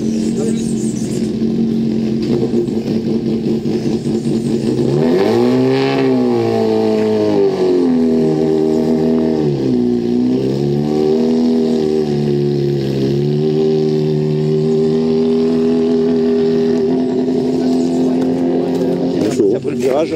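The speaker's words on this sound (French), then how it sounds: "Ça tourne un peu bancal, hein, cette bagnole." A hill climb race car engine revs loudly and steadily close by, its pitch rising and falling in several surges, with people talking over the running engine.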